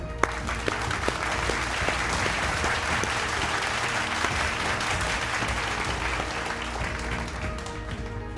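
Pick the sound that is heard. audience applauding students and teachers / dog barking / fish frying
audience applauding students and teachers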